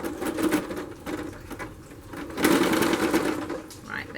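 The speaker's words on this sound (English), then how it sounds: "And then sew along the original seam line if you can match it up." A sewing machine stitches along the original seam of a seat cushion during a zip replacement, a close, fast whirring rattle that runs throughout and grows louder partway through.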